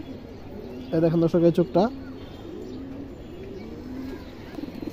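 Pigeons coo in a short burst of several rhythmic, throaty calls, close and clear, while someone talks over the birds throughout.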